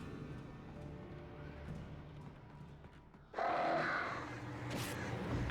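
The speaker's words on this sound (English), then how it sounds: "God, the birds are so annoying." Crows caw in the video game Alan Wake, a sudden harsh burst of calls after a quieter stretch of low ambience and creaking, fairly close and with no one talking.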